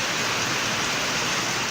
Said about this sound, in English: The sound of rain is a natural ASMR trigger that can create a sense of tranquility and peace.